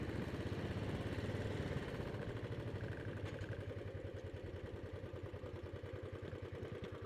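A Royal Enfield Classic 500 Tribute Black motorcycle idles in neutral at the roadside, its single-cylinder thump steady, loud and close, with a fast even pulse and some rattle throughout.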